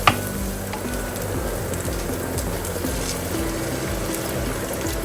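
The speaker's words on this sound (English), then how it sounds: "to add 325 millilitres of water" Water goes into a hot pan of potatoes over medium heat, followed by a steady sizzle and bubbling that stays close and even, opening with a brief sharp splash.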